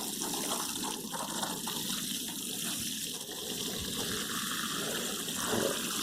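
A full watering can holding about seven litres of water pours steadily into a large potato planter on an allotment, producing a continuous splashing gush that stays close and even throughout.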